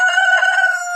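Tiger breed chicken at a farm, a single sustained rooster-like crow, loud and close, lasting about a second with no talk.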